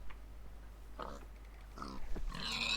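Pigs grunting as they are killed in the video game Minecraft: three short, quiet grunts spaced about a second apart, with no talk over them.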